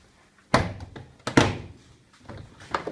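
Door trim panel on a Mitsubishi Outlander yanked off its retaining clips: two sharp, close plastic thunks about a second apart, followed by fainter rattles and knocks, with no talking.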